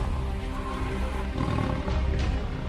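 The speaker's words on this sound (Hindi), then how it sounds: "ये तो किसी बाघ की आवाज है।" A large tiger roars in a jungle, a continuous deep, rumbling growl that fills the whole stretch, loud and close with no talking.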